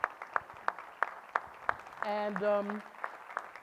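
A modest audience claps for an award winner at a business event, sparse individual claps at an irregular pace with a brief spoken word partway through.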